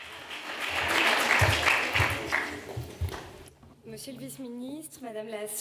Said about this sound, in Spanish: Gracias por darle un aplauso